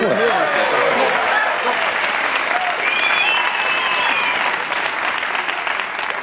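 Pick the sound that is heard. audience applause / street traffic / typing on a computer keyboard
audience applause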